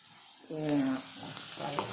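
Onion frying in a little oil in a pan gives a soft crackle and stir, with a brief tonal hum partway through.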